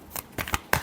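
Tarot cards are shuffled in a few quick, crisp riffling bursts, close and fairly loud, with no talking.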